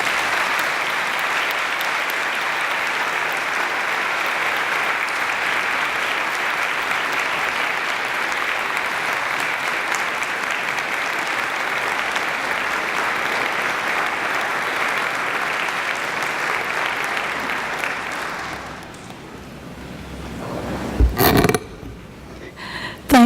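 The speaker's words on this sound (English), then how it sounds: "I ask that you all join me in welcoming her with the roundest of applause" A Tuskegee University baccalaureate audience applauds in welcome of the speaker, a dense steady wash of clapping that fades out near the end, followed by a few sharp knocks and handling noises close to the microphone.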